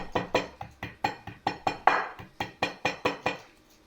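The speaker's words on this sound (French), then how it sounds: "un pilon improvisé avec le dos du couteau pour écraser un peu d'ail" A dozen or so sharp knocks of the back of a knife crushing garlic on a cutting board, steady and close, each ending in a brief crunch.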